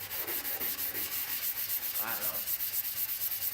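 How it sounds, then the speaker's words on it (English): A 120-grit flap disc sanding wheel grinds against metal in a steady, loud, rasping pass with rhythmic pulses, and a voice mutters briefly. "like a 120 grit flat disc sanding wheel"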